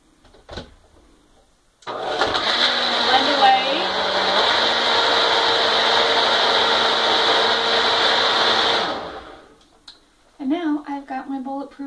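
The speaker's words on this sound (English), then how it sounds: "This is my Cuisinart blender." A Cuisinart blender whirs loudly and steadily for several seconds, its motor pitch shifting slightly as it churns, then spins down; a voice speaks briefly afterward.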